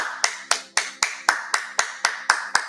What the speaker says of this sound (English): Clap it up for you guys and yourselves.